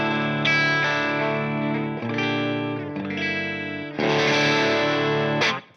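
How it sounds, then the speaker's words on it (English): A Gibson Les Paul electric guitar played through a fuzz pedal set to a clean tone at the edge of breakup, strummed chords ringing loud and close in a few changes, alone. "Let's hear through my Gibson Les Paul, first without the scoop, and then with the scoop. This is my clean sound."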